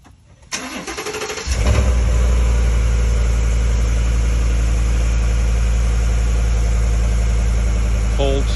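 A 2020 Ford F-150 5.0 Coyote V8 with a muffler delete and side-exit dual tips cold starts, cranking and catching after a second, then settling into a loud, deep, steady idle with a low rumbling throb.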